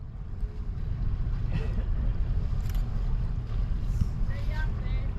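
A sailboat's engine idles steadily as the boat drifts slowly into a marina at about 5.5 knots, a constant low rumble mixed with wind and water, with faint voices over it.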